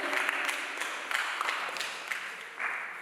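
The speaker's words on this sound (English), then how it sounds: "Clap for her" Audience clapping at a parent and teen church gathering as a young adults' representative comes forward, a moderate burst of applause that holds steady and rises slightly near the end.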